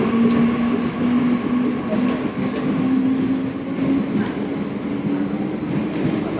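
A train at Bhayandar railway station, a steady close rumble with a sustained tonal hum, faint rhythmic clicks and squeals running throughout.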